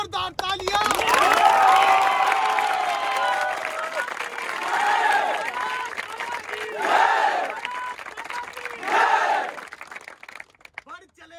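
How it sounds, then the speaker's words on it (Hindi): A large crowd cheers and claps loudly for a young soldier, with shouting voices swelling over the applause in several waves before it fades out. "एक बार जोरदार तालियां।"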